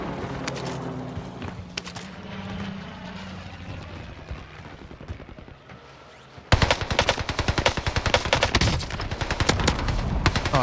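Automatic gunfire in the Warzone video game on Rebirth Island, with sustained loud bursts of rapid shots and a background engine drone like a helicopter or aircraft, breaking into a sharper, denser volley of close shots partway through.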